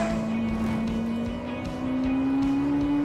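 A Lexus LFA's V10 engine screams at around 9,000 rpm in a steady, sustained howl, its pitch climbing slightly as it holds near the top of its range.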